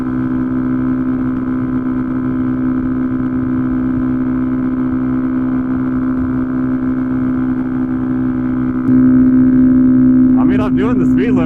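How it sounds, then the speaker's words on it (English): A Honda Grom motorcycle engine drones steadily and loudly while riding at speed-limit pace. The pitch and level rise slightly near the end. "I ride a Grom."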